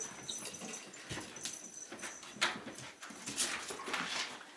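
A dog makes soft whimpers and excited yips close by, mixed with scuffling and thumps of movement, in irregular bursts without speech.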